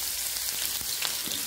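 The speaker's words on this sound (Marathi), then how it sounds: "कांदा छानपैकी परतून घेऊया।" Chopped onion frying in hot oil with mustard seeds and cumin, a steady close sizzle and crackle with faint pops running throughout, no talking.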